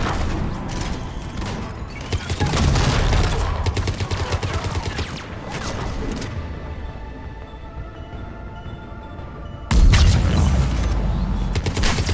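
Video-game cannons fire in dense, rapid volleys of booming blasts with mechanical clatter, loud and sustained, pausing briefly before a fresh heavy barrage erupts.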